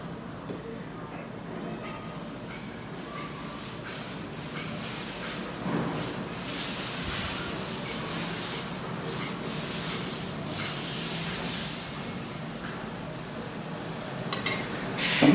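Amaranth-leaf dosa batter spread on a hot pan gives a steady, close broadband sizzle and hiss that runs throughout, with occasional scraping and clinks from the utensil.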